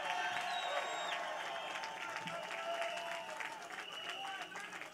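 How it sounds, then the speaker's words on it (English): Applause and crowd noise at a labor union rally for working people, a steady wash of clapping and cheering that stays loud and dense throughout. "Give yourselves a round of applause."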